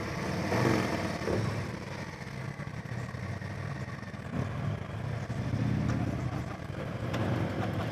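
A 2021 Harley-Davidson Softail Standard motorcycle rumbles steadily while being ridden, its engine a continuous, fairly loud drone with slight swells in intensity throughout.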